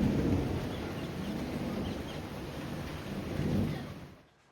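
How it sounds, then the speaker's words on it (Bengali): Thunder rumbles low and steady through falling rain at the seaside in Gopalpur, Odisha, swelling once near the end before fading away; no voices. "যদিও মেঘ ডাকছে এখনো।"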